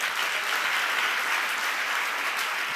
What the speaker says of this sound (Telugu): ఇప్పుడు కొట్టాలి మీరు చప్పట్లు కొడితే.